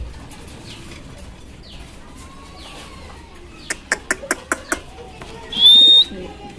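A pair of Indonesian-colour mukhi pigeons in a loft, with faint low coos in the background, then a quick run of six sharp wing claps and a short high whistle near the end.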